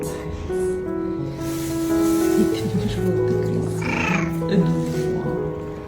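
A distressed cat cries and meows repeatedly from a box bed, its drawn-out wails sounding close over soft background noise.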